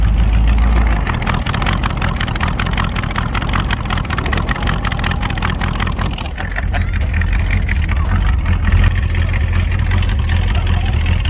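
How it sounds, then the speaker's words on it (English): A 1947 Chevrolet 3100 hot rod's engine runs steadily throughout, a loud, low rumbling drone from inside the moving truck, briefly easing and then picking back up partway through. "See how happy the engine is when we get there."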